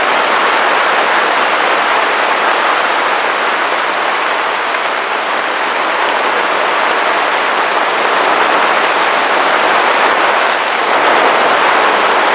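Heavy rain pours steadily and loudly on a surface for the whole stretch, a dense, unbroken hiss with no voices over it, heard in a fluid art painter's workspace.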